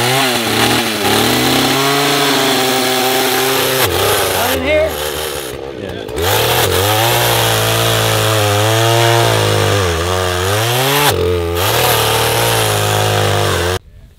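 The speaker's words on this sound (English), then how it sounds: "Chainsaw action." A loud chainsaw engine roars almost continuously, its pitch rising and falling as it bogs into a hay bale and revs back up, with brief pauses.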